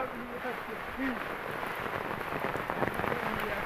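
Heavy monsoon rain pours down in a village, a dense steady hiss of drops pattering on surfaces close by, with a voice briefly audible under it.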